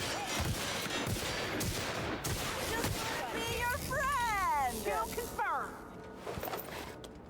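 Rapid bursts of gunfire from the sci-fi shooter The Outer Worlds crackle densely through the first half, mixed with game effects and chirping synthetic tones, ending in scattered shots as the action thins out.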